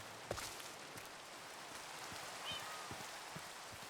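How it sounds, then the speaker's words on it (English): Steady rain from the Minecraft video game, a broad even hiss with scattered soft drop taps, moderately loud and continuous with no talk. "But I also love the particle rain."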